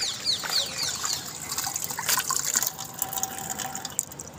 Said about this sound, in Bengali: দিয়ে কলটা বন্ধ করে দাও হচ্ছে জল ঘাটা অনেক ও কলটা বন্ধ করো